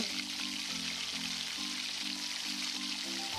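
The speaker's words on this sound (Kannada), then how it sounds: "ಅಡುಗೆ ಮಾಡೋಕ್ಕೆ ಕೊಬ್ಬರಿ ಎಣ್ಣೆ ಬಳಸ್ತಾ ಇದ್ದೀನಿ. ಇವಾಗ ಈರುಳ್ಳಿ ಹಾಕ್ಕೊಳ್ಳೋಣ" Onions frying in hot coconut oil for a coastal crab sukka, a steady close sizzle running evenly throughout beneath a faint rhythmic background tune.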